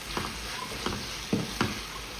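Onions and minced kefta meat sizzle steadily in a hot pan, with a few soft scraping stirs rising above the constant frying hiss.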